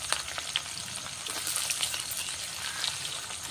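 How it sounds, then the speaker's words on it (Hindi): Chopped onion sizzles and crackles steadily in hot oil tempered with bay leaf, black peppercorns, cloves, cinnamon, cumin and mustard seeds, with scattered pops and faint stirring in a quiet village kitchen. "पियाज को भाजी नबा"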